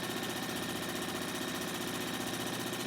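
A sewing machine stitches down the sides of a fabric mask with a continuous rapid mechanical hum and rattle, steady and close throughout with no talking.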